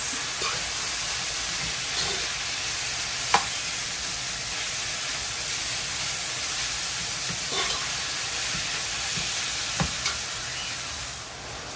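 Beef pieces searing in a big pan for Guyanese beef chowmein, a loud, continuous hissing sizzle with occasional stirring clicks, heard alone without voices.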